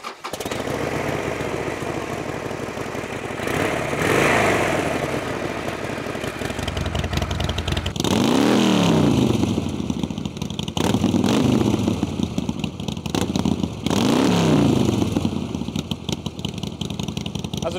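A Harley-Davidson Evolution engine idles with a loose, lumpy clatter, loud and close, occasionally blipping the throttle over roughly eighteen seconds with no speech.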